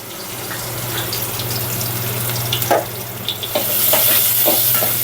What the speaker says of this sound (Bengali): সুন্দর করে এখানে পেঁয়াজ আর রসুন দিয়ে গেলাম